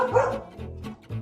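A dog barks in quick succession, three short close barks with a slight whimpering tone between them.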